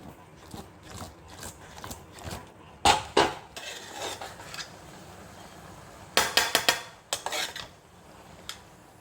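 Coconut, garlic and cumin paste stirred in a pan for a green gram and raw plantain thoran, with sharp metallic clanks and scraping of a spoon against the pan in scattered bursts over a quiet background.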